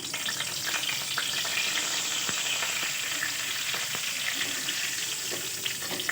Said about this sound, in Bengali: আমি তেল দিয়ে দিচ্ছি তারপর আলুগুলোকে আমি ভালোভাবে কষিয়ে নেব সঙ্গে পাঁচ ফোড়ন দিচ্ছি আর তেজপাতা দিয়ে দিচ্ছি